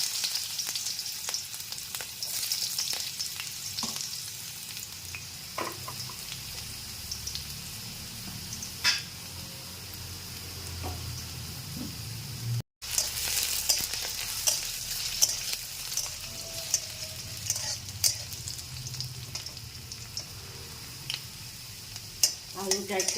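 Potatoes frying in hot oil with bay leaf and cumin for an okra dish: a steady, quiet sizzle with stirring clicks and scrapes that runs throughout, a brief dropout in the middle, and faint voices in the background.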